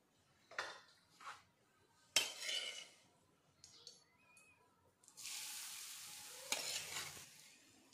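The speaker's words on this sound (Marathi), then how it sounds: "आपलं बारीक केलेलं खोबरं आणि गूळ या तुपामध्ये फ्राय करून घेऊया।" Grated coconut and jaggery fry in a spoonful of ghee as a spoon scrapes and stirs the pan in short bursts, then a steady sizzle builds, close and moderately loud, with no talking.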